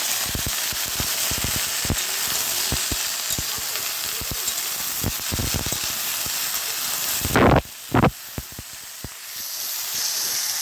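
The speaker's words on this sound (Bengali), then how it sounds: "পাঁচফোড়ন, শুকনো লঙ্কা ফোড়নে দিলাম, আর এখন তরকারিটা বসিয়ে দিলাম।" Vegetable curry of cauliflower and tomato frying in oil tempered with panch phoron and dried chilli, a loud steady sizzle with scattered crackling pops and a couple of sharp clatters near the end.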